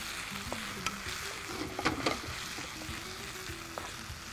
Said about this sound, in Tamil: 3 பச்சை மிளகாய் நல்லா வதக்கலாம்